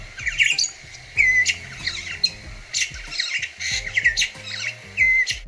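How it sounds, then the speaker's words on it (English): A Cape starling, also called the red-shouldered glossy starling, sings a close, clear string of varied squawks, chirps and whistles in quick, uneven bursts with no other sounds. "It was a Cape starling singing."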